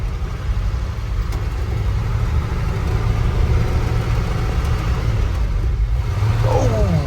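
An old truck found at the dump runs steadily while driving, its engine a continuous close rumble with faint rattles and a brief rise toward the end.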